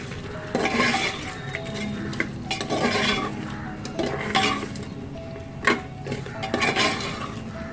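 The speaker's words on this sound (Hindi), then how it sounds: "इसे हम मसालों के साथ फिर से अच्छे से भूनेंगे।" Mutton stir-fried with spices in a pan over high flame, with a spoon scraping and clanking against the metal in repeated strokes over a low background sizzle, close and fairly loud.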